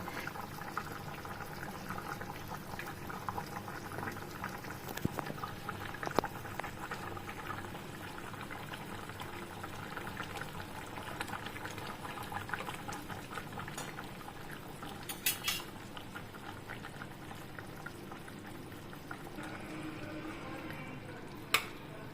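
Stuffed pointed gourd (potol) curry with its gravy boiling in a pan, a steady low bubbling simmer that runs throughout with occasional small clicks and a sharp knock near the end, no one speaking.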